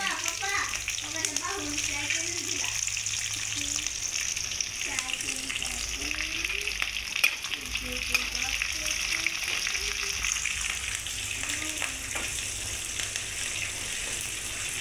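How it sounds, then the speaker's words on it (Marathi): Curry leaves and chilies crackle and sizzle in hot oil, a steady, dense frying hiss running throughout while people talk over it. "आपण कढीपत्ता आणि मिरच्या संगत टाकू, कारण का दोन्ही बी तडा तडात वाजणार आहे"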